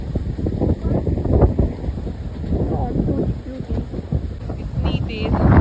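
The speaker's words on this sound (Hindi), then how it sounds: "ये बहुत तेज हवा चल रही है" Strong wind gusts near the Manthoka waterfall in Shigar, Pakistan, producing heavy, uneven rumbling buffeting against the microphone that swells and fades, with a voice briefly audible beneath the roar.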